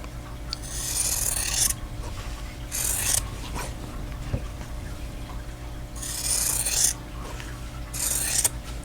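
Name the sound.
trimming quilt block fabric pieces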